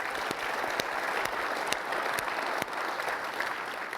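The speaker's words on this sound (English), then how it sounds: "everyone owes Jean a great round of applause for organizing this great" A conference audience gives a warm round of applause, dense continuous clapping from a large crowd with a few sharper claps standing out near the front, steady and fairly loud from start to finish.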